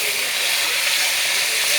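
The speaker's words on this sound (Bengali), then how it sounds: "আগে দেখেন আমি এই মাছগুলো ভাজছি" Fish fry in hot oil, giving a loud, constant, bright sizzling hiss close up that never lets up during the short stretch.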